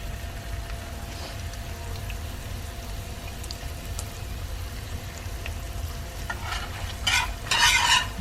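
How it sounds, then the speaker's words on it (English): General Tso sauce stirred in a hot pan, a quiet steady sizzle with soft scraping under it, swelling into louder bursts of bubbling near the end; no one speaks. "You're gonna need to stir this for 30 seconds before you start adding in our rice wine vinegar and sugar."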